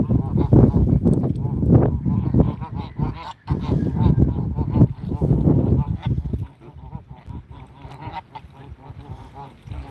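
Geese on the water honk loudly and close by in a dense, overlapping burst for about six seconds, then carry on with quieter, scattered calls.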